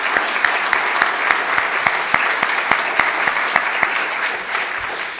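An audience claps for a deputy secretary at a public session of an academic class on technology and society, a steady round of loud applause with distinct close claps over the hall's crowd.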